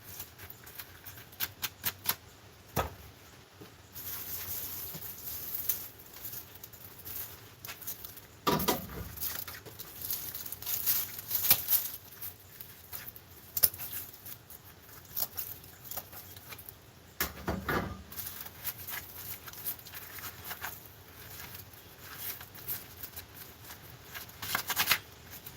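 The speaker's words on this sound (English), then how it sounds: "while I'm peeling this garlic" Harvested garlic is peeled by hand, with dry papery skins rustling and crackling in soft irregular bursts close by, sometimes louder crinkles, throughout a long stretch without talking.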